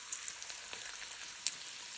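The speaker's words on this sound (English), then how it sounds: "slow cooking some thick cut bacon in one of my most favorite cast iron skillets" Thick-cut bacon sizzling slowly in a cast iron skillet, a steady bright crackle with occasional sharper pops, close and continuous with no talking.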